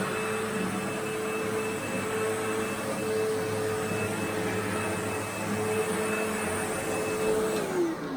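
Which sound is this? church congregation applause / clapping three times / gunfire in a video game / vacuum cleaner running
vacuum cleaner running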